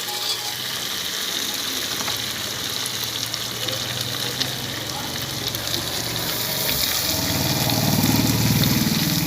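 Biryani masala fries in a pressure cooker with a continuous loud sizzle, and a deeper bubbling, rushing layer swells in toward the end.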